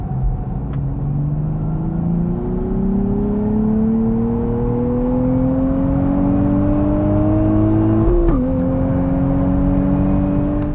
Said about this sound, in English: I like the noise that this engine is making.